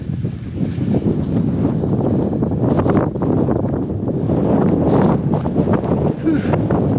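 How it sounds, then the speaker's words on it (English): Strong wind gusting across an exposed wild campsite on the West Highland Way, buffeting the microphone with a constant loud roar and surges throughout. "wind picked up a little bit"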